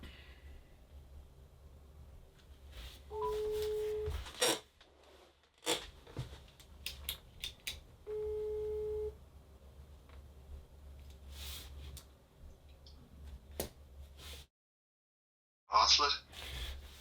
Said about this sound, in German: Das hier ist wirklich das allererste Telefonat meiner vermeintlich so schwierigen Hassler-Recherche.